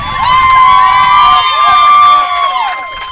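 Cheering section shouting and whooping at the finish of a track race at a state high school championship meet, sustained loud voices close by and swelling near the end.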